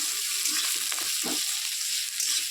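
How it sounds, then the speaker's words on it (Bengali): Chopped onion fries in a pan with a steady, close broadband sizzle, with a few brief stirring clinks and scrapes breaking through the hiss. "পেঁয়াজ কুচিটাকে একটু ভেজে নিই"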